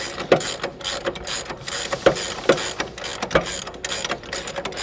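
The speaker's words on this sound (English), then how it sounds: "now we can take a 22 millimeter and a 21 millimeter and tighten up the lower strut bolt" A ratchet wrench tightens the lower strut bolt during a Ridetech coil-over install on a Dodge Charger or Challenger, giving close, sharp bursts of rapid clicking with short pauses between strokes.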